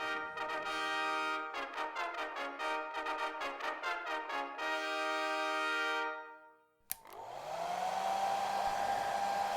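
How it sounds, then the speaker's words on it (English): A hair dryer blows steadily and loudly, with a harmonic, buzzing drone that stutters briefly, cuts out for a moment and then resumes as a smooth, constant whoosh. "I can't hear you over this hairdryer."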